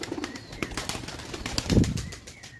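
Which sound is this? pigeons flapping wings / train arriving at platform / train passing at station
pigeons flapping wings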